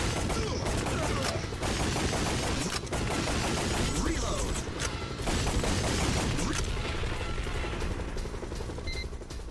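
Rapid gunfire from the arcade light-gun shooter Time Crisis crackles in dense, loud bursts almost without pause, layered with game effects and mechanical noises, while a voice talks over the action.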